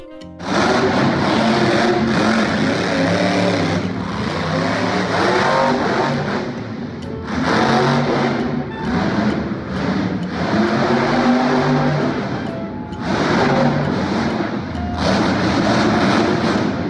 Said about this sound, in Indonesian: Mobil monster.